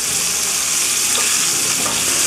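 Sausages frying in a pan give a loud, dense, continuous sizzle and crackle, close up and steady with no talking.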